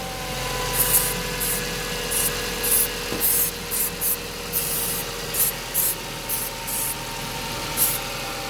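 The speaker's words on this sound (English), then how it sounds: "I'm gonna squirt some of this around just to check for air leaks." An idling Mazda 323F engine hums steadily while an aerosol can sprays in about a dozen short hissing bursts around its pipes, close to the microphone.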